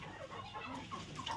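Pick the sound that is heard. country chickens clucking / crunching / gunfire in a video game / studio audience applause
country chickens clucking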